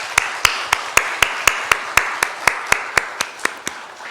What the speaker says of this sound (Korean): 위로와 감사의 박수를 한번 하겠습니다.